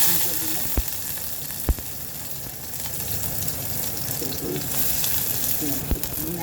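Oil in a pan for Bengali chicken curry sizzles and fries steadily close by, a continuous hiss with a few sharp pops or knocks, and a voice speaks faintly underneath.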